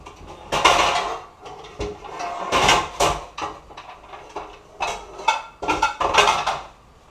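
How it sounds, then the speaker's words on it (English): Metal pots and pans clatter and clank as a pan is pulled out from among them in a kitchen during potato pancake prep, several bursts of rattling and knocking spread over a few seconds, close and fairly loud. "take the next biggest pan that I have"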